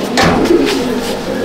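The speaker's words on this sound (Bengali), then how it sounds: "এটা পা বেটে লাইনে পায়রা" Pigeons in a loft at Kestopur, a short, close, low cooing call rising and falling over a quiet background.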